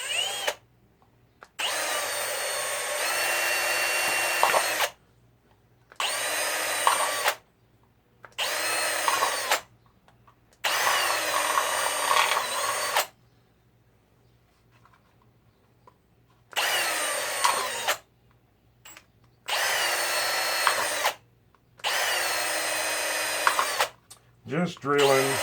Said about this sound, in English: Just drilling a bunch of series of holes